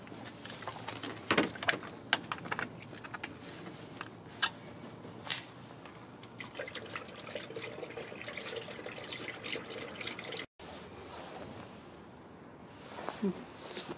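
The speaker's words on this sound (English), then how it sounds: "Let's put some coolant. Right, so we're using this Eco Fresh." Eco Fresh coolant poured into a 2007 Mazda 3, a steady watery trickle and splash with a few faint clinks, briefly interrupted partway through before the pouring resumes.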